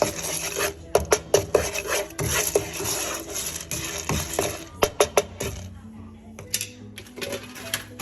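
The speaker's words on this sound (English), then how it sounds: "Then it's time to put in your popcorn" Dry popcorn kernels rattle into a pot for a yellow-corn and powdered-milk snack, a quick run of sharp close clicks and patters over several seconds before thinning out, with a voice talking now and then.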